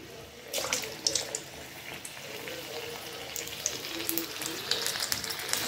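Batter-coated paneer cubes frying in hot oil make a steady, moderately quiet bubbling crackle, with sharper pops and spatters scattered through.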